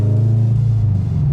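A Rotrex-supercharged 282 hp Subaru BRZ on the move gives off a loud, low engine and exhaust drone, a brief steady rumble heard from inside the car.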